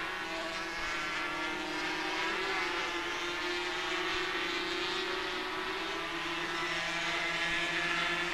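Racing motorcycles at the 1982 Dutch Grand Prix, 250cc class, their engines a steady, continuous high-pitched drone at middle distance, with no voices over it.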